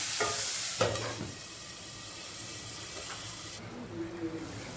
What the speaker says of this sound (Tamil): வெங்காயம் தக்காளி நல்லா கொஞ்சம் வதங்கிடுச்சு பாதி